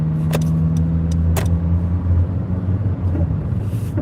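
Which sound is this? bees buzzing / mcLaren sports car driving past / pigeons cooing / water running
mcLaren sports car driving past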